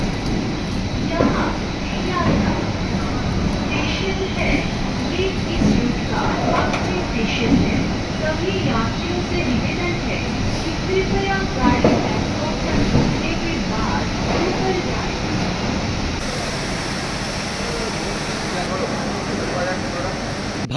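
Train pulling into Sealdah junction railway station at night, a steady loud rumble of carriages and rail noise running throughout, with people talking nearby in the busy station.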